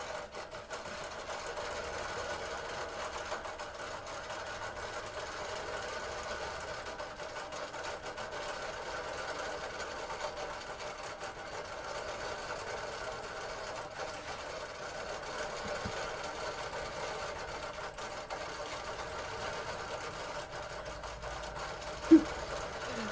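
A longarm quilting sewing machine runs steadily while its bobbin winds, giving a continuous even mechanical hum and whir with faint rattling that lasts throughout, and a brief single tap near the end.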